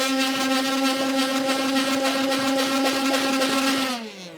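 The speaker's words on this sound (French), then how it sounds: "Moi là j'utilise le mixeur plongeant pour gagner du temps." Immersion blender running steadily in a pitcher of tempura batter, a loud continuous motor whine with a strong harmonic hum that keeps up for about four seconds, then cuts off.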